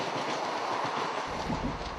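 A passenger train running on rails gives a steady, close, broadband rumble and rattle that holds an even level throughout, with a slightly deeper low-end roll in the second half and no voices.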